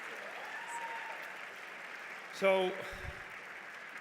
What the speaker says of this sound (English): can we give a big round of applause to this amazing meal